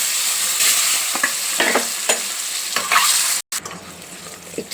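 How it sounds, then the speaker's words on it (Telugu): Boiled eggs coated with chili powder, salt and turmeric fry in oil in a kadai, giving a close, steady sizzle broken by scraping stir strokes, with a brief dropout near the end. "ఎగ్స్ మంచిగా వేగినాయి కదా"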